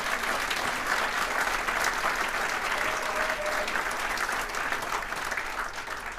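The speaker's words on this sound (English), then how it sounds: "Give them a big round of applause." A crowd at a congressional district state-of-the-region address applauds, a steady, even roar of many hands clapping, somewhat distant, sustained throughout.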